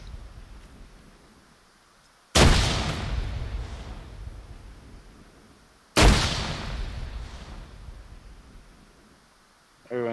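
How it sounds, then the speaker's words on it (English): Two grenades explode in Arma 3, each a sharp loud blast followed by a long fading rumble, a few seconds apart, with quiet ambient noise between and brief talk. "Oh, bad grenade, bad grenade."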